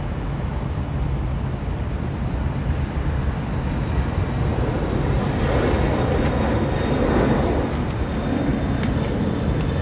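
A DHL cargo airplane takes off from LAX bound for Phoenix, its engines a loud, continuous roar that holds steady and swells slightly near the end, with no voices.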